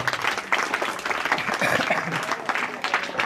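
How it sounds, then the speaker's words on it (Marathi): Audience applause honours students at a school education event, a steady dense wash of clapping that lasts throughout at moderate level. "सर्व विद्यार्थ्यांसाठी पुन्हा एकदा उपस्थितांनी जोरदार टाळ्या वाजवाव्या"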